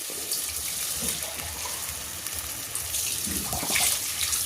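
Water gushes from a tap or jug into a cooking pot while sinigang with salmon belly is being made, a continuous splashing pour that swells louder toward the end.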